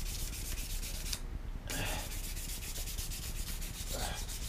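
A sycamore wooden spoon is sanded with 400 grit sandpaper, giving steady close rhythmic rubbing strokes with a short pause partway through.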